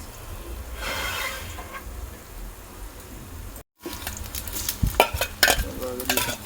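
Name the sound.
vegetable khichuri cooking over coal fire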